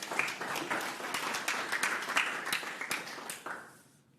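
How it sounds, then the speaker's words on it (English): Audience applause for the sponsors at a PowerShell conference session, a dense burst of many clapping hands that holds steady for several seconds, then quickly thins and fades out. "Can I have a quick applause for the sponsors?"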